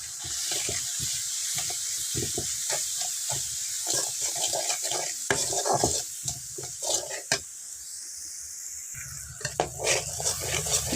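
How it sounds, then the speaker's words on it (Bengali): A spice paste of chili powder and salt fries in a pan for a fish curry, giving a low sizzle broken by repeated stirring and scraping strokes, with no talking. "একসঙ্গে ভালোভাবে মশলাটাকে একটু কষিয়ে নিব।"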